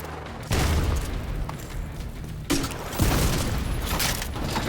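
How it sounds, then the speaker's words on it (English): A grenade blast in the Division 2 video game, heard as a loud broadband boom near the start followed by a second burst midway and another about a second later, all set against continuous gunfire and combat noise. "Oh, grenade away!"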